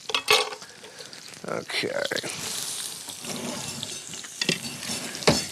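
Onions sautéing in a pan until translucent for a potato dish, a steady sizzle and stirring clatter with sharp utensil knocks, while someone talks briefly over the cooking.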